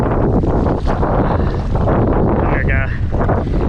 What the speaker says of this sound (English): y'all hear this insane wind